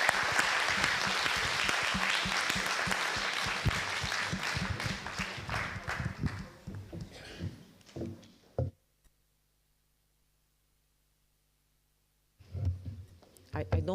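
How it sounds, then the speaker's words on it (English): An audience at a Bauhaus4EU closing session claps hands, a full round of applause that thins into scattered claps and fades to silence, followed by a voice speaking briefly at the end. "yes, just clap your hands."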